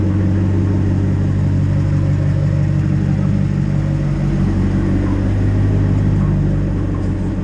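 Twin-turbo rear-wheel-drive Audi R8 engine rumbling steadily as the car drives off, a loud, constant low drone heard from inside the cabin.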